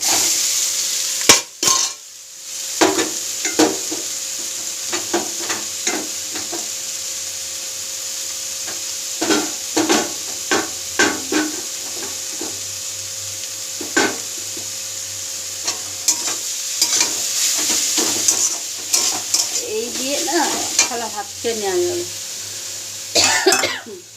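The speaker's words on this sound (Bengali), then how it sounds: "এই যে কচু ঘষে নিয়েছি আর এখানে কালো জিরে রসুন আর কাঁচা লঙ্কা দিলাম" Grated taro fries with nigella seeds, garlic and green chili, a steady sizzle under repeated scraping stirs and clinks of a utensil against the pan, with a cough and throat clearing near the start.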